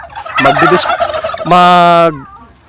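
A turkey gobbles loudly and close by, a rapid warbling call followed by a second sustained, strained gobble, with no talk.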